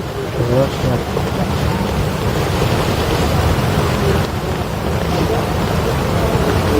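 Heavy rain pours steadily on Bukit Moko hill while low thunder rumbles through it, loud and continuous from start to finish.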